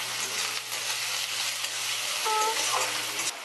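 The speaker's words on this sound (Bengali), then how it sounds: "প্রায় 2 মিনিট ধরে পেঁয়াজটা ভেজে নিয়েছি।" Sliced onions fry with a little salt in a pan for a Bengali banana-flower and prawn dish, giving a steady close sizzle with a few light stirring scrapes and no talk.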